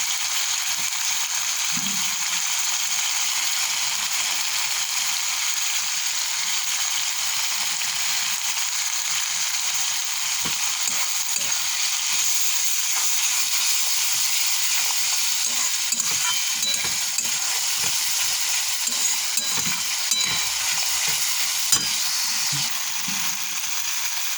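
Tomato with turmeric, salt and chilli powder frying in a pan as it is stirred, a steady close sizzle throughout with scraping and clinking stir strokes scattered across the whole stretch, no voices.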